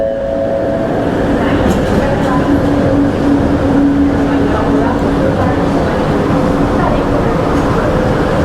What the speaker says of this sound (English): Is this our train coming?